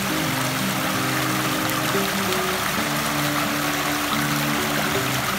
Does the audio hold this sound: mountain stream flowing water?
yes